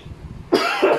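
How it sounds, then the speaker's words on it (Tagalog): A single sharp, close cough with a second raspy burst right after, loud and alone over a quiet background. "Inuubo pa ako."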